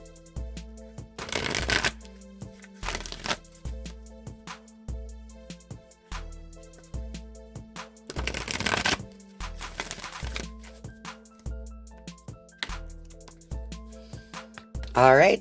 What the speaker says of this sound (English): I'm just going to give these a few shuffles.